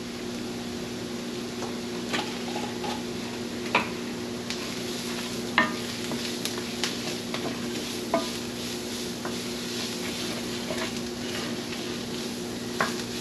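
Venison with beef bouillon sizzles in a pan: a steady close frying hiss and hum, with sharp scraping clicks of stirring every second or two.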